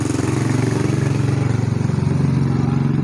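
A motorcycle engine by a roadside hums steadily and loudly with a rough, pulsing drone close by that holds throughout, with no talking over it.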